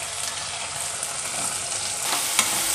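Steady close sizzling and frying as green chillies cook in a pan with onion and ginger garlic paste, a continuous crackling hiss with light stirring and no talking.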